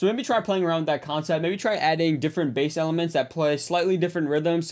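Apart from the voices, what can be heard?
No everyday noises stand out.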